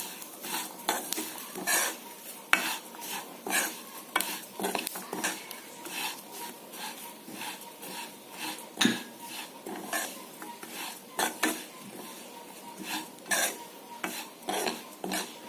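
Sesame seeds, peanuts and grated coconut roasting slowly over a low flame, with a spoon scraping and clinking against the pan in an irregular rhythm over a faint sizzle.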